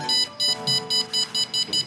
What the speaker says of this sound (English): As we get closer and closer, the beeping frequency becomes higher and higher